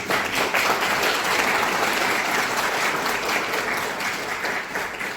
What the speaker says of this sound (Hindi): अपने गुरु के लिए तो एक बार जोरदार ताली होनी चाहिए